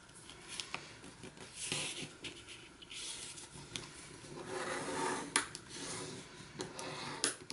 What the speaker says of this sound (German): Nehme mir gleich mal mein Falzbein und falze die Linie noch mal richtig schön sauber nach.